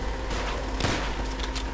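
Gunfire from the World War II video game Call of Duty: World at War, a dense burst of rapid shots with one sharp louder crack near the middle, set against constant game noise.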